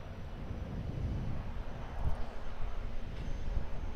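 A GE90 engine on an Air New Zealand Boeing 777-300ER spools up at Auckland Airport, a broad, steady roar heard from a distance with a gradual swell and no talk.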